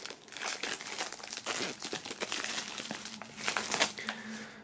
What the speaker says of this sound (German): auch die holen wir mal hier aus der Folie.